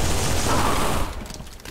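Rapid gunfire in Halo 3 follows a grenade throw, a dense rattling burst of shots that holds steady for about a second, then thins into scattered trailing pops.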